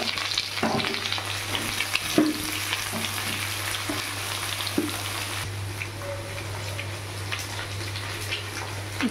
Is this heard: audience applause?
no